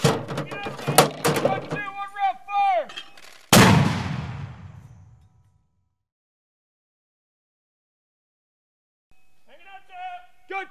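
Mortar fire on the Fuji Viper range: a sharp, loud launch boom that rings and fades over a couple of seconds, with shouted fire commands before it and more calls starting again near the end.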